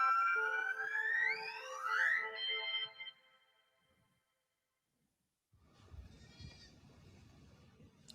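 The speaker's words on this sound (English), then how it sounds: "There's a goat here." A goat bleats loudly in a long wavering call, rising in pitch, for about three seconds, then quiet follows before rustling background noise returns.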